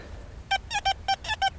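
XP Deus 2 metal detector giving a squeaky target signal over a pottery-strewn field, sounding as five or six short, high, evenly spaced beeps after a quiet start, close and fairly loud over faint background noise.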